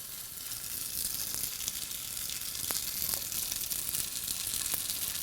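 A slice of livermush fries in a pan with a steady, close hiss and crackle, occasional sharper pops rising above the continuous sizzle.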